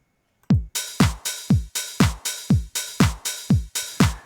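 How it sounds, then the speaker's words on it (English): A punchy drum loop programmed in Ableton Live 10: deep kicks alternating with crisp hi-hat ticks in a steady, even rhythm, loud and close with no voices. "I'm going to be placing this hi-hat between the kick here and the kick here."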